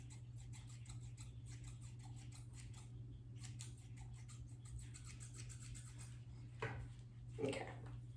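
Quiet, rapid snipping of cheap office scissors cutting fringe bangs, repeating in quick bursts over a low steady hum, with a couple of louder snips near the end.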